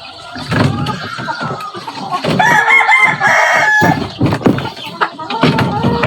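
A Peruvian Black Knight gamefowl rooster crows loudly nearby in one drawn-out call, surrounded by clucking and other fowl sounds in a backyard breeding pen, with people talking over it.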